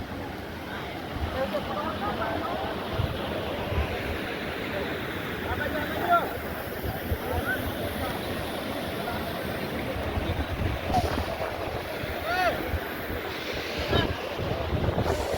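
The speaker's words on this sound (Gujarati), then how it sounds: "જે ડેમની બારી લીકેજ છે ત્યાંથી પાણી પણ આવી રહ્યું છે" Water leaking through a gate of Dantiwada Dam rushes steadily and loudly without pause, blended with gusting wind buffeting the microphone.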